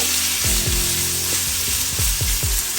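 Garlic, ginger and chilli paste sizzling and spattering in hot oil over low heat, with a spoon scraping and stirring the pan in several quick strokes.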